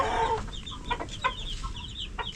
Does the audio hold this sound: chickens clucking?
yes